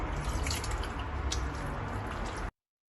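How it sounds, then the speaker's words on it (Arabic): Cold water poured steadily into a msemen dough mix, a continuous, fairly loud splashing and trickling stream that cuts off abruptly, with no talking over it. "غادي نخلط غير بالماء ماء بارد."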